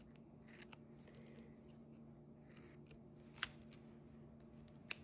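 Quiet snips of scissors cutting folded needlepoint canvas indoors, a couple of faint crisp clicks over a low steady background hum, with no talking.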